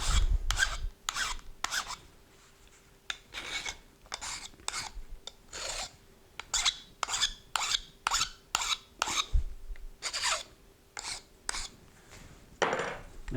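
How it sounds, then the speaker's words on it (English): Repeated rasping strokes of a file on a stone-knapping tool, short scraping pulses in an uneven rhythm with brief pauses, close and moderately quiet, no talk. "more filing"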